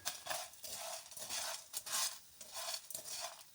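Puffed rice is roasted and stirred in a pan, a soft rhythmic rustling scrape in repeated sweeps, fairly quiet and close with no talk.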